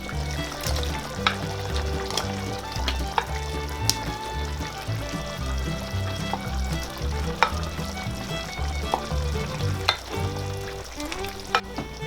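Potatoes dropped into a pan with tender cooked meat, frying in a steady, dense sizzle with scattered clinks and scrapes of stirring throughout, no voices.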